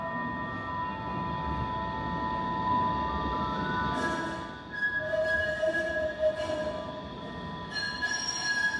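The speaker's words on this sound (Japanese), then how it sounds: "その余韻とともに電車が姿を現します" A Manyo Line Doraemon-themed tram pulls into a station in Takaoka, its steady rumble joined by squealing wheels and a drawn-out metallic screech as it arrives, with no voices.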